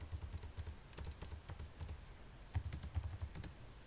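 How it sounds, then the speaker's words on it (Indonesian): Soft, quick keystrokes on a computer keyboard as a command is typed, irregular bursts of light clicks at low volume with no speech. "tinggal ketik MD5 sum"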